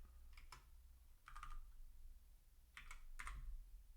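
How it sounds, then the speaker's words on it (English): Bursts of computer keyboard typing, a few quick keystrokes near 0.5 s, a cluster around 1.4 s and another pair of clicks around 3 s, close and fairly quiet over steady low background hum. "Oh, I mistyped on my keyboard."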